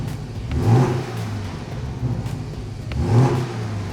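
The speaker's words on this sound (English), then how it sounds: "that flat four engine has lots of character" A 2018 Porsche 718 Cayman GTS flat-four engine with an adjustable exhaust and six-speed manual revs in two rising pulls over a steady engine drone, heard clearly with no talk.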